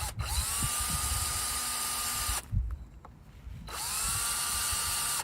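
A power drill whines steadily as it bores into the end grain of a piece of wood for a bow drill, stops briefly for a couple of seconds, then starts up again, close and loud.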